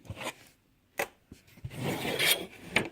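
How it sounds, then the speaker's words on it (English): Small jewelry snips cut wire for an arrowhead necklace, giving a few sharp, close clicks and snaps, then a longer scraping, rasping stretch of metal handling. "These little snips here should cut this wire pretty good."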